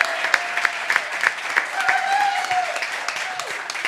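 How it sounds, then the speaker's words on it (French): Studio audience applauding a contestant on a French comedy television show, steady dense clapping throughout with a faint voice briefly audible over it. "je vous demande d'applaudir comme il se doit Monsieur Steven."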